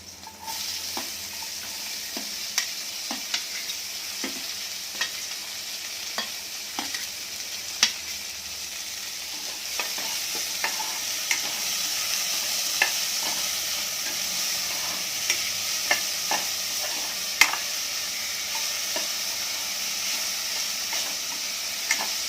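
Chopped onion with green chilli sizzles in a pan while a spoon stirs it, giving a soft, steady fry with frequent clicks and scrapes of the spoon against the pan.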